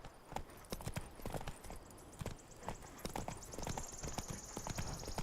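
Horse hooves clip-clop in a steady walking rhythm in The Witcher 3, crisp repeated hoofbeats close by with faint ambient sound and a brief high whine in the background.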